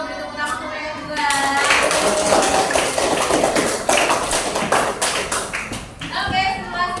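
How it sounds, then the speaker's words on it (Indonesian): A classroom of primary school students bursts into loud, sustained clapping for classmates, lasting several seconds, with voices and chatter mixed in and tapering off near the end. "Beri tepuk tangan untuk mereka juga"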